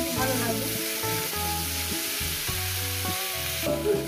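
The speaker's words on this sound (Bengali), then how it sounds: "সবজিটা ভাজবো 5 মিনিট ধরে" Vegetables frying in oil for a spicy Bengali katla fish curry, a continuous bright sizzle heard close, with background music playing throughout.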